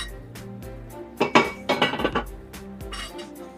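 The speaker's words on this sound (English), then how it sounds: "I'm just gonna take a quick second to give everything a stir" A spoon stirs a pot of vegetable cacciatore, scraping and clinking against the metal in a quick burst of several knocks that stand out over a quiet kitchen background.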